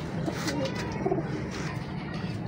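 Soft cooing of Teddy performance pigeons murmurs on and off against a steady background hum, low and fairly quiet, with no talking.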